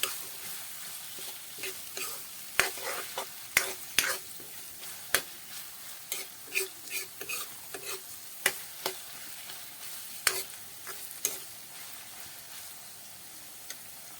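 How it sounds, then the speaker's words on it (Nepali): Chopped onion and ginger sizzle softly in a pan as Manchurian masala for gobi manchurian is stirred, a quiet frying hiss broken by frequent sharp spoon scrapes and clicks against the pan. "अब यसलाई मिक्स गरेर यसको मसला बनाउँछु, मन्चुरियन मसला।"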